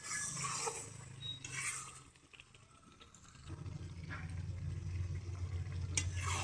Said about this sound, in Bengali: অল্প জালে মাংসটা ভালোভাবে কষে নেব